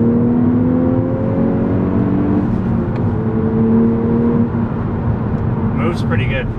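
2012 Volkswagen Golf R engine accelerating from inside the cabin, a loud, steady drone with rising whining tones as it pulls through a gear, with someone speaking near the end.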